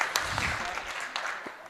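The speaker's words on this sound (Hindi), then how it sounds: "आप एक बार जोरदार ताली हो तो" Clapping rises from the audience at an all-India Hindi poetry gathering, a short burst of applause with a few sharper individual claps and a murmur of voices underneath.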